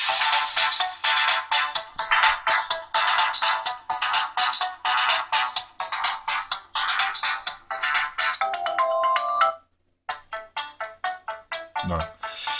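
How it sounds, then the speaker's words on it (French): The ringtone of a CoolPad LeEco Cool1 phone plays as a loud, bright melody in a fast repeating pattern, pauses briefly near the end, then resumes with a few more notes. "On va écouter un peu la sonnerie du téléphone."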